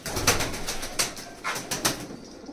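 Pigeons at a loft, a male and female pair, with repeated soft fluttering bursts of wingbeats and light movement, close and moderately loud, spaced unevenly across the moment with no voices.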